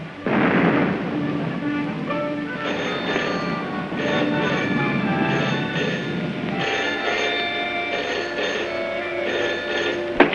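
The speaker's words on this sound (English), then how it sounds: "Listen, guns again." Anti-aircraft guns rumble in a 1936 film soundtrack, with a continuous heavy boom and roll, loud and reverberant, mixed with sustained droning tones like a musical score underneath.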